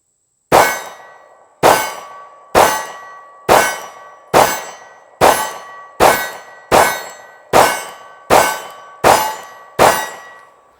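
A Taurus Millennium G2 pistol fires twelve sharp, loud shots at a steady, unhurried pace, each crack ringing off into a short decay before the next, with no talking.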